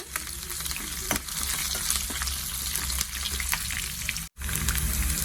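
Dried red chillies, onion pieces and curry leaves frying in a pan for a Rayalaseema-style mango dal, giving a continuous close sizzle with light stirring clicks and a brief break near the end, no talking.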